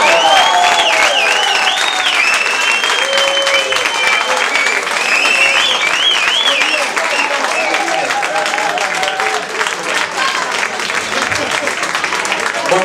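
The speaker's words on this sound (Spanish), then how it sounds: "Un fuerte aplauso." Bar audience at a guitar solo contest gives sustained loud applause with cheering and whistles for the winner, continuous throughout, with voices mixed into the crowd noise.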